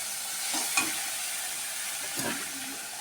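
Turmeric powder being stirred into hot oil in a pan, a soft steady sizzle with a couple of faint scraping stirs, alone without voices.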